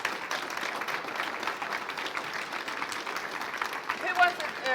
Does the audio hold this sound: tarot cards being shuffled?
no